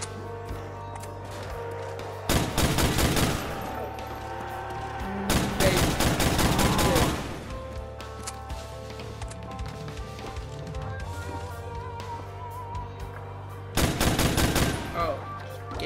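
Bursts of rapid gunfire in Black Ops Zombies on the Nacht Der Untoten map, with three loud automatic volleys spaced apart and quieter game sounds between them.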